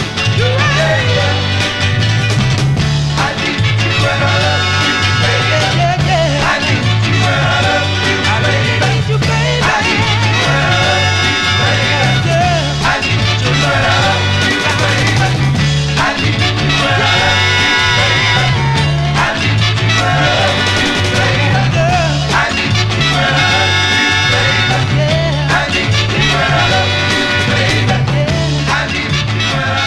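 A 1966 soul 45 record playing loud and continuous with a steady driving bass line, full band and vocals filling the whole stretch.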